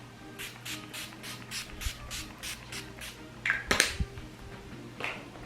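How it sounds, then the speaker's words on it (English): A series of quick misty bursts of Mary Kay makeup finishing spray in a steady rhythm, close by, followed by a couple of louder clicks and taps. "I'm going to use the Mary Kay Makeup Finishing Spray."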